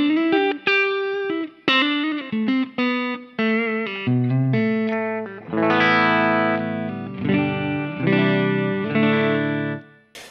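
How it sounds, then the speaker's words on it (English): Clean electric guitar played through a Fender Bassman amplifier, a run of plucked single notes and chords ringing out clearly with brief gaps between phrases, then fuller sustained strummed chords, with no voices. "here's my clean tone running this guitar into the Fender Bassman."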